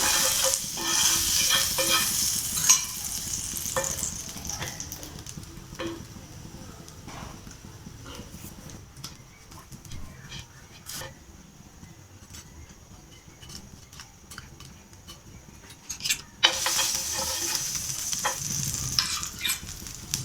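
Buttered bread for masala bread toast sizzles on a hot pan, a bright frying hiss that is loud at the start, fades to a quieter crackle in the middle, then swells again.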